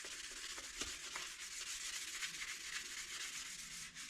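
Tung oil rubbed into a wooden spatula made from scrap wood, a soft continuous hissing rub with faint scratchy strokes, close and quiet, no talk.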